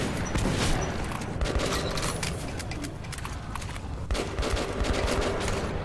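Gunfire in the video game Metro 2033 crackles in dense, rapid bursts, a continuous clatter of shots with sharp peaks over a busy, noisy background.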